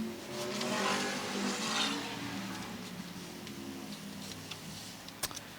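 American Vintage Modified race cars run at Waterford, their engines droning loudly at first and then easing off into a lower, steady roar, with scattered sharp ticks near the end.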